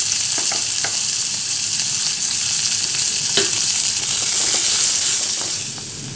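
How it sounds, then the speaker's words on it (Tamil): Small onions fry in hot oil with popped mustard seeds, urad dal and green chillies, a loud, dense, continuous sizzle and crackle close up that eases slightly at the end. "பச்சை மிளகாய் போட்டுக்கலாம். போட்டு வெங்காயம் போட்டுக்கலாம்."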